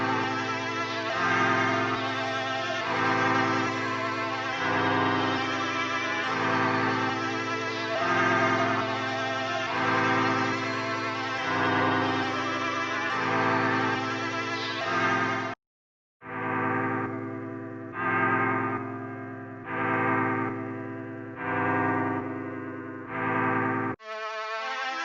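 Drill beat loops from a loop kit play in sequence, a steady repeating melodic pattern that pulses in even bars, cuts out abruptly, then resumes with a new choppy loop.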